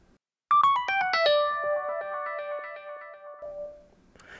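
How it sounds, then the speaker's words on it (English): Synth line run through Cubase's Mod Machine delay, giving a phasey, modulated tone: a quick burst of bright plucked notes that settles into a held, wavering chord and slowly decays, alone and fairly loud. "we've added a Mod Machine delay"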